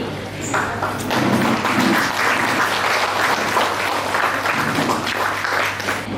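An audience at an educational event claps for two women educators, a steady, fairly loud wash of applause that holds evenly throughout with a faint hum beneath.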